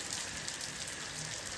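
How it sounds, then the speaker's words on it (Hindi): Heavy rain pours down steadily outside a small fast food shop, a constant hissing wash with no pauses or talking. "ये देखो इतनी भयंकर बारिश आ रही है ना, बहुत ज़्यादा भयंकर है"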